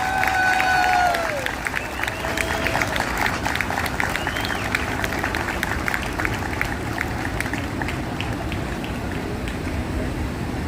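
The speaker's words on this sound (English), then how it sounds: "Please give them all a big round of applause." Crowd applause for veterans at Brooklyn's Memorial Day parade in New York City: a sustained, dense patter of clapping from many people outdoors, with a brief whistle and cheering near the start.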